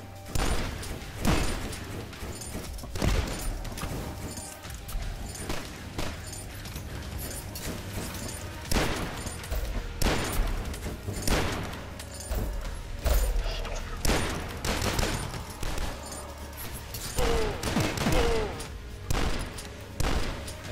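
Shotgun blasts and gunfire fill a combat stretch of the retro shooter DUSK, a dense run of loud, sharp shots at an irregular pace, with a voice talking over the action throughout.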